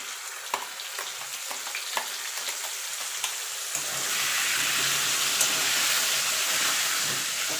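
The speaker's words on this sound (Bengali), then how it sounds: "এবার টমেটো আদাটা ভালো করে কষিয়ে নেব" Tomato and ginger paste being sautéed with fried potatoes: light spoon taps and scrapes over a low sizzle, then a louder, continuous hissing fry swells up as the paste hits the hot pan.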